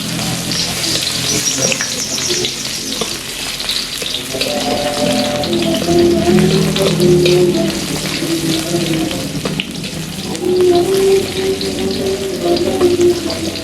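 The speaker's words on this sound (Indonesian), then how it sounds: "Yang pertama kita mau numis dulu kembang bawang. Nah, ini ada bawang merah, bawang putih masuk." Garlic chives, shallots and garlic fry in hot oil, a loud steady sizzle close by with stirring scrapes and bursts of crackling as ingredients go in.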